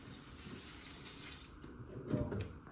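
Water splashes and gurgles into an aquarium tank, growing louder toward the end with a burst of pouring over steady background noise.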